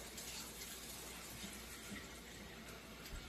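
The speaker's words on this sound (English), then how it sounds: "Get just a little bit more water." Water pours steadily from a tap into a water bath canner holding jars, a continuous soft rushing hiss with no talk.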